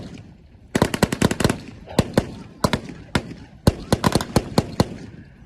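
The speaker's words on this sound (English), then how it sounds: "as well as that famed MG-34 machine gun" An MG-34 machine gun fires at a World War II reenactment in rapid bursts of sharp cracks, the bursts broken by short pauses, loud and close.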